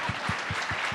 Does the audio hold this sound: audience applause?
yes